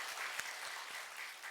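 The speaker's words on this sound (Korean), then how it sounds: "우리 수고하셨다고 박수 한번 드리겠습니다." Congregation applause at a Sunday church service, a steady wash of clapping hands that runs evenly throughout at fairly low volume, with no voices.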